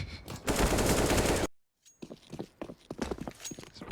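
Pistol shots ring out in a Counter-Strike: Global Offensive esports match, first a dense loud burst of rapid fire that cuts off abruptly, then a brief silence followed by scattered quieter sharp shots and footsteps.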